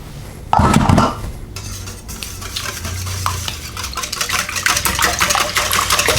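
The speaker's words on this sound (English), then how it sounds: "Get it all mixed around and get it fluffy." Eggs and milk are whisked in a bowl for a tater tot breakfast casserole: a loud splashy burst from the milk going in, then steady rhythmic scraping and clinking of the stirring utensil, close up and without talk.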